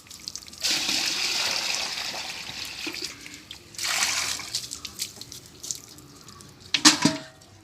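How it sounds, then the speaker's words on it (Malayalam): Water sloshing and splashing in bursts as it is drawn from a home well in a paddy-field area, with a louder splash near the end; no speech. "വെള്ളം കോരുവാണ്. നമ്മുടെ കിണറാണിത്."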